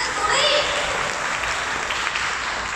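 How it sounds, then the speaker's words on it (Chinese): A press conference audience claps for a Luxgen brand award: continuous, fairly loud applause from a crowd over a few seconds, with a brief voice audible near the start. "掌声鼓励。"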